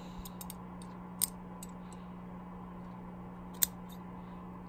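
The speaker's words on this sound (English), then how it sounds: "So I'm gonna snip it kind of towards the end of the tank rim there." Scissors snipping cotton wick at the rim of a Kayfun Lite rebuildable tank, two sharp close clicks a few seconds apart over a steady low hum.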